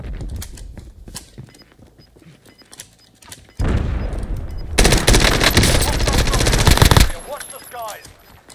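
Loud, rapid automatic gunfire bursts from the game Modern Warfare on Rebirth Island, sustained for several seconds after quieter game sounds, with a short spoken line near the start.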